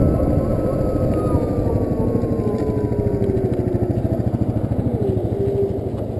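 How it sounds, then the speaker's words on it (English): A Zero DS electric motorcycle, a police special fitted with sirens and lights, gives off a soft, steady electric motor whir with a faint gliding tone and a light rhythmic pulsing underneath, close by and fairly quiet. "It's just that little bit of a whir."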